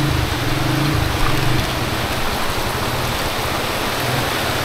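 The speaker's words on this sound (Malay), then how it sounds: "Hujan lebat" Heavy rain pours steadily over a forest, a dense unbroken hiss with a low rumble underneath, loud and continuous with no voices.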